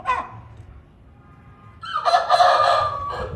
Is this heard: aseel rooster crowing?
yes